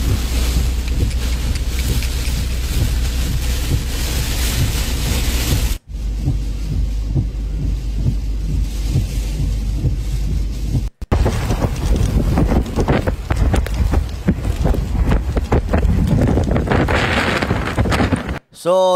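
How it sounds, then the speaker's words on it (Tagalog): Strong typhoon wind battering Polilio Island, a loud continuous roar and buffeting gusts close to the microphone that run nearly unbroken for the whole stretch, with brief dropouts and a voice talking faintly beneath it. "medyo malakas na po dyan yung hangin mga sangkay"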